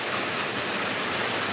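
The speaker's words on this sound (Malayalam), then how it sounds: "ശക്തിയായിട്ടുള്ള മഴയാണ്." Heavy rain pours down in a dense, steady hiss with no breaks, loud and close, and no other sounds stand out.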